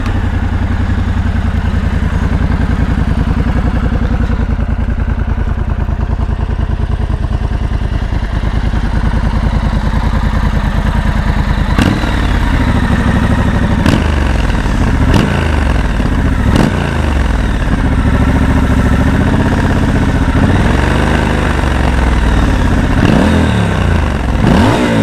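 A Triumph Scrambler XC with stock exhaust fires up and settles into a steady, rumbling idle, with a few sharp revs blipping through near the end, loud and close.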